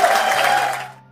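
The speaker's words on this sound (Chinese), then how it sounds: "鼓掌。" A short burst of dense crowd applause, fairly loud at first, then fading away within about a second.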